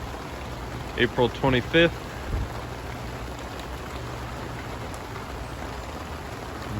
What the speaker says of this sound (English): The first nice, warm, comfortable rain of the year.